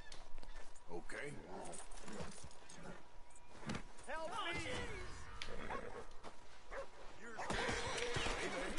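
Dogs bark and yip in bursts in the video game Red Dead Redemption 2, fairly faint and intermittent, with someone talking over them.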